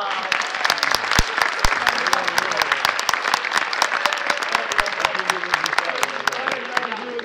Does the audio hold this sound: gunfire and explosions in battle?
no